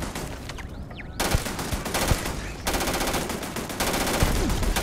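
Automatic turret gunfire in the video game Starfield, heard as sustained rapid bursts of shots with sharp cracks, loud and continuous through the whole stretch with brief gaps between volleys.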